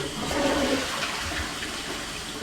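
A blocked toilet being flushed, a steady loud rush of water filling the bowl without draining, continuous and close throughout.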